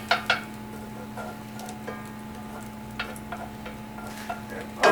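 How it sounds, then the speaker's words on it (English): Metal utensil stirring melted ingredients in a preheating cast iron pan on a SilverFire stove, with a few sharp scraping clicks and faint sizzling over a steady low hum, no talk. "Stir it around a bit."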